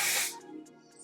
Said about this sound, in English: And then take my spray,